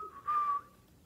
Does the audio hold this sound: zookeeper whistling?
yes